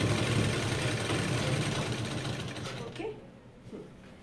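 A sewing machine stitching a cut dress whirs steadily and close, then stops partway through, with someone speaking over and after it.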